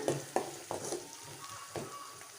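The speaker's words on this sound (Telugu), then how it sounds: "ఉల్లిగడ్డ ముక్కలు కొంచెం సాఫ్ట్ అయ్యేంత వరకు ఫ్రై చేసుకోవాలి" Chopped onions with turmeric frying in a pan, a soft close sizzle broken by several distinct spoon scrapes and stirring strokes, fairly quiet with no voices.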